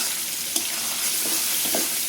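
Whole spices, including cinnamon, black cardamom, mace, nutmeg, black pepper and dried red chilies, are lightly fried in a pan. They give a steady, close sizzle broken by a few soft stirring scrapes.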